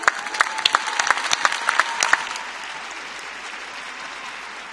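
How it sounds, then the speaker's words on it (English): An audience applauds at the 2016 Trophée de France figure skating gala, with loud, sharp, irregular claps for about two seconds before they thin out and fade into a softer crowd wash. "applause up."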